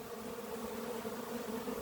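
Honeybees at the hive just after rain, many of them returning without pollen, make a steady, dense buzzing hum that runs evenly throughout, soft and unbroken with no voices.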